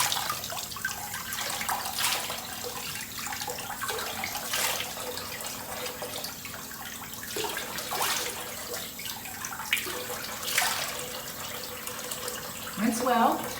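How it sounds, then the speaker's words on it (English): Lukewarm water runs gently from a tap while a face is rinsed, soft splashes rising and falling in brief bursts over a steady low flow, fairly quiet. "with very mild lukewarm water, rinse like a normal cleanser"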